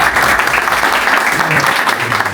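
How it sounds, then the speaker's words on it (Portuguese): Audience applause at a business talk session: dense, steady clapping from a crowd, loud and close, holding evenly throughout with no break. "Salve de palmas, por favor."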